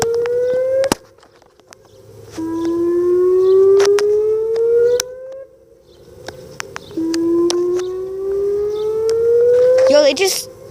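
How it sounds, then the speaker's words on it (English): Outdoor tornado warning sirens wail in repeated rising whoops, each tone climbing steadily before cutting off, loud and continuous with brief gaps between cycles and faint bird chirps in the background. "So tornado sirens are sounding."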